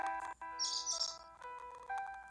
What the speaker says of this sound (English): When I looked up, there was a bird.